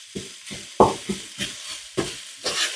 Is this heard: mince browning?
yes